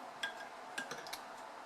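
Quiet clinks and light scrapes of a utensil against a pot while oil is stirred into rice for Afghan plain rice, several soft metallic ticks scattered over a faint background.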